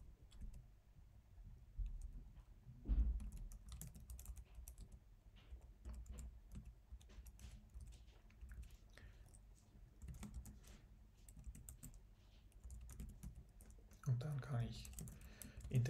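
Typing on a computer keyboard while writing code, a steady run of quiet clicky keystrokes at close range, with a couple of louder knocks and brief voices near the end.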